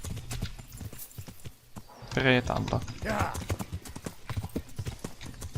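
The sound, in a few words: horse galloping, from video game Kingdom Come: Deliverance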